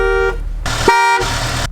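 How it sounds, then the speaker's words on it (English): A 1980s BMW 325i (E30) horn sounds two loud, close toots, a short blast followed by a longer one, both harsh and brassy, with no voices. "The first is the horn, which is just the loudest thing I've ever heard."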